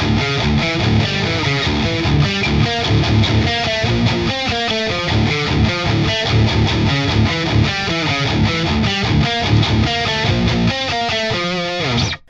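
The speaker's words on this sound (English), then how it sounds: "Again, a distorted rhythm tone, and it sounds like this." Sterling Majesty electric guitar on the middle pickup setting, bridge and neck combined, playing a distorted rhythm part: loud, thick chugging chords and riffs with a driving, steady pulse.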